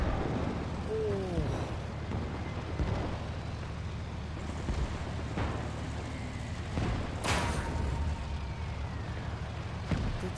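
Tank combat in the North Africa mission of the video game Valour, with a shell deflecting off one tank and striking the player's vehicle, heavy rumbling blasts and metallic impacts over a constant engine drone; a voice talks faintly underneath.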